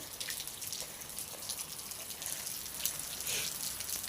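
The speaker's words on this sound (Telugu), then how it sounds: "ఇవాళ అయితే వాన అయితే బాగా పడుతుంది" Rain falls steadily in a faint, even hiss, with scattered light patters and drips on surfaces nearby, no voices present.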